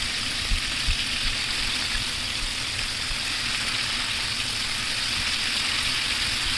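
Chicken pieces coated in beaten egg and a little flour fry in hot oil, giving a steady, even sizzle that stays close and fairly loud throughout, with no talking over it.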